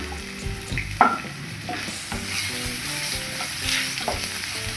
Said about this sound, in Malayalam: ഒരു ചെറിയ കഷ്ണം ഇഞ്ചി ചതച്ചും കൂടെ ചേർത്ത് നമുക്ക് ഒന്ന് വഴറ്റി കൊടുക്കാമേ